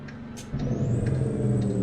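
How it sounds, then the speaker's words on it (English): An old Mack truck in American Truck Simulator rumbles with a low, throaty engine brake that swells in after a brief quieter start and holds as a deep pulsing growl, with a faint high whine above. "Oh, the Jake brakes in this truck, though, man. This thing sounds awesome."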